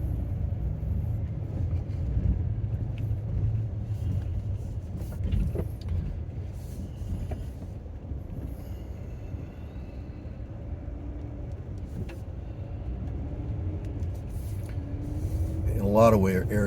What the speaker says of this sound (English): I'm driving the van because the truck's being used.